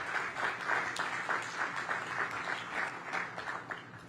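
An outdoor crowd at a community space groundbreaking in Congress Heights breaks into steady, even applause for a staff member, a continuous wash of many hands clapping at moderate distance.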